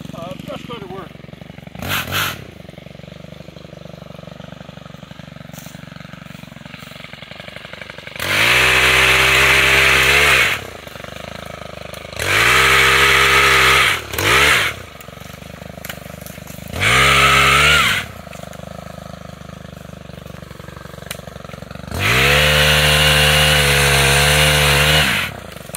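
A Stihl HT pole pruner saw head fitted to an FS131 trimmer cuts branches, its engine revving loudly in repeated bursts of several seconds that drop back to a low idle between cuts.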